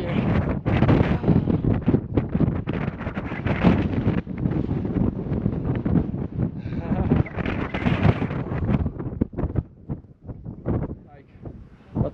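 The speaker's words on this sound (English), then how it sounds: "Whoa, lots of wind here." Strong wind buffets the microphone on a mountain hike near Ala-Kul Lake in Kyrgyzstan, a loud, gusty roar that rises and falls, with a person talking underneath.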